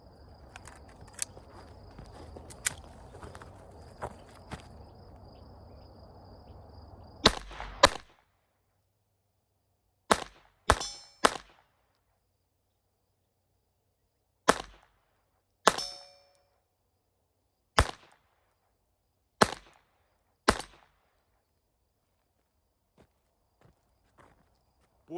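Sharp, isolated pistol shots from a Walther PPK/S .22 LR at an outdoor range, about a dozen cracks spaced a second or more apart, following a stretch of faint talk.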